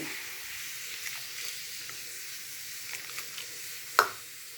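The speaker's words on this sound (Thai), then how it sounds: "ตั้งน้ำให้เดือด พริกแกงป่าลงเลย" Red jungle-curry paste goes into a pot of boiling water with no oil, giving a steady, soft hiss with faint bubbling and one sharp clink near the end.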